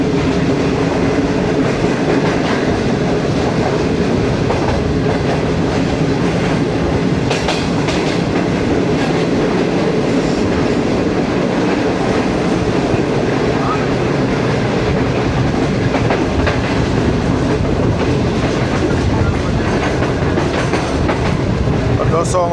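Pak Business Express passenger train running along the rails near Lodhran Junction, a steady loud rumble with rhythmic clickety-clack of wheels over track joints heard from on board, continuous throughout.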